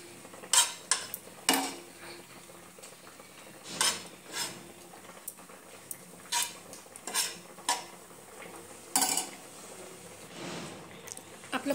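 Grated coconut being dry-roasted in a pan, heard as repeated scraping and clinking of a spatula against the metal, quiet and close, with no talk.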